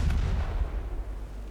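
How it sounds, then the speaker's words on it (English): Secondary guns of a battleship firing in a naval battle video game set in an 1893 Norwegian campaign, a loud booming rumble that opens with a sharp report and then rolls on and fades. "Secondaries are opening up."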